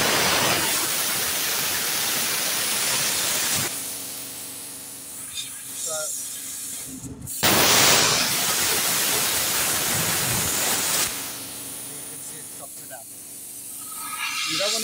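A handheld plasma cutter blows a steady, loud rush of air and hisses while cutting metal, in long broadband bursts broken by a brief drop to near silence partway through.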